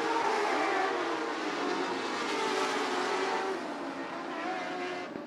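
Modified Lite dirt race cars pull away after the green flag at Bubba Raceway Park during the 2016 STARS Winter Dirt Games VII, their engines merging into a loud, continuous roar that gradually eases as the pack moves off.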